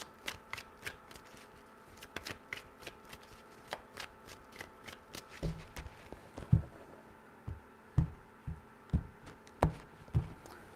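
A deck of tarot cards is handled close by, with a steady run of light flicks and taps, then firmer rhythmic slaps as the cards are shuffled.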